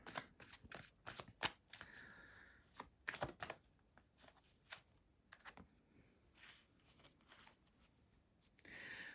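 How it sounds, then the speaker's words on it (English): A deck of tarot cards is shuffled by hand, giving quick bursts of crisp riffling and soft slapping in irregular clusters, close and quiet with short pauses between. "I'm shuffling the wrong deck"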